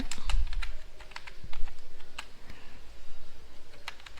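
Rapid keystrokes on a computer keyboard as a command is typed, a steady run of close, crisp clicks over a low background hum.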